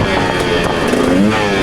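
A dirt bike engine revs loudly up close during a wheelie, its buzzing pitch rising and wavering as the throttle opens.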